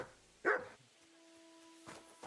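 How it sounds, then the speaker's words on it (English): A dog in the Kingdom Come Deliverance video game gives a single sharp, close bark, followed by a fainter second yelp about a second and a half later. "Don't bark at me"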